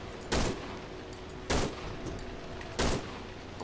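Three loud gunshots from a firearm in the horror game Cry of Fear, spaced about 1.2 seconds apart, each a sharp broadband crack with a short tail over a steady low background hum.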